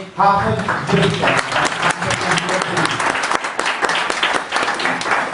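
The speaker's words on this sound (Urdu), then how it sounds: "ان کے لیے بھرپور تالیاں ہونی چاہیے." Audience applause fills the room at a dinner honouring a Pakistani community figure, a loud, sustained burst of clapping from many hands, with a speaker's voice briefly heard at the start over the clapping.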